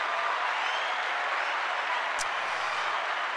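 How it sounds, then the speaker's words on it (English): Audience giving a round of applause at a live comedy show, continuous dense clapping with a faint crowd murmur and a brief sharp click partway through. "Samantha Upton, round of applause"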